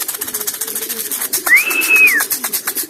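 Racing pigeons coo softly nearby in an enclosed loft, with rapid fluttering and rustling throughout and a brief high whistling tone in the middle.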